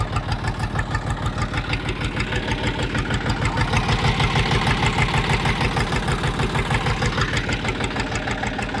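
A Kentavr tractor engine with about 400 hours on it idles steadily while warming up, its close, even firing pulses thudding in a fast regular rhythm throughout.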